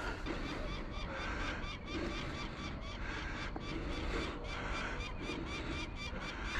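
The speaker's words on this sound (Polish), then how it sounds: "Chyba jakieś większe ptaki tam na górze słychać." Large birds honk repeatedly at a distance, goose-like calls recurring over a faint, steady background hiss.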